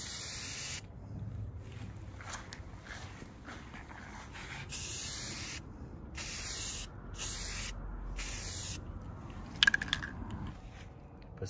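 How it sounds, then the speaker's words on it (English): Aerosol primer sprayed from a spray can onto wiped-down car trim pieces, hissing in several bursts of a few seconds each with short pauses between, close and steady, with a few sharp clicks near the end. "I'm gonna spray the primer on first."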